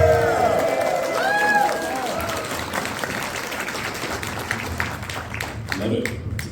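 A convention panel audience at a fan gathering claps and cheers for Japanese fans in the room, a steady crowd of applause that swells early and then carries on beneath murmuring voices.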